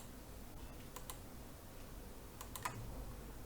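Computer keyboard keys click in a few scattered taps and short pairs during design work in Adobe XD, close but quiet, with no talking.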